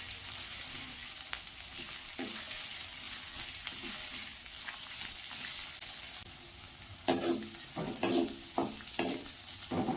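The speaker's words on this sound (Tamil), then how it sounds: "கொஞ்சமாக கருவேப்பிலை போட்டுக்கோங்க. ரெண்டும் சேர்ந்து நல்லா வதங்கட்டும்." Ivy gourd and curry leaves sauté in a pan with a steady close sizzle, while a spoon scrapes and stirs now and then, the scraping growing busier and more pronounced toward the end, with no voices.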